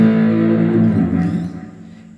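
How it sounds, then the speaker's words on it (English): Electric guitar power chords played through an overdrive pedal, the intro riff of a song, ring out as a loud sustained distorted chord that slowly decays, with a fresh pick attack at the very end. "it uses power chords and I'm using an overdrive pedal, so you're getting a rock sound."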